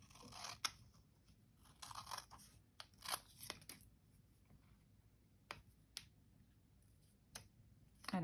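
Scissors snip through material in a few crisp, close cuts. They come in short, irregular clusters with quiet pauses between.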